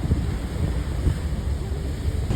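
Wind blows on a ferry near the Statue of Liberty, a steady loud rumbling roar buffeting the microphone, with faint water and boat noise underneath and no speech.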